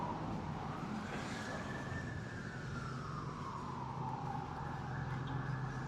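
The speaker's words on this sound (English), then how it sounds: "the ever-present sound of sirens." On a Toronto city street, a siren wails from a distance, its pitch sweeping up and then slowly down over steady traffic rumble, faint and without any voices.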